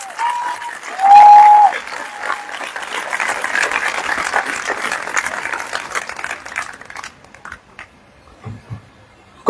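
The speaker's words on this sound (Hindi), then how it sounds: "आइए प्रभु के लिए एक अच्छी ताली बजाएंगे हम" An audience at an outdoor church meeting claps for the Lord in a dense, steady burst for about seven seconds, then the applause thins out and trails away into quiet.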